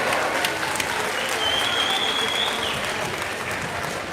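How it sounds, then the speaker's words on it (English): A middle school winter concert audience applauds a sixth grade choir, a steady, moderately distant wash of clapping that holds evenly throughout. "Let's give them a big round of applause for their work this year."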